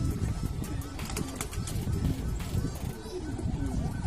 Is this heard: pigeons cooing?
yes